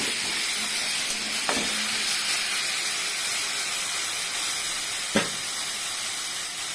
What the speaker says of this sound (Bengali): আর লঙ্কা ধনে পাতা, সেটা আমি দিয়ে এবার আমি সুন্দর করে কষিয়ে নেব।